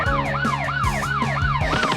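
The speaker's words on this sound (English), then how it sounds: "Oh, my siren is back!" Cartoon police car siren wailing in fast repeated rising-and-falling sweeps, loud and continuous, about four cycles over two seconds, alone with no speech.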